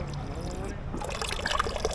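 Cold drinking water runs from a public fountain in Rome, a light splashing trickle with bright droplet patter under nearby voices and a busy street background.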